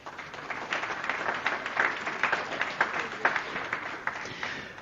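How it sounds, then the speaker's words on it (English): An audience at an international forum in Dubrovnik applauds, a steady patter of many hands at moderate distance, fairly quiet and even, with no voices over it. "And a round of applause,"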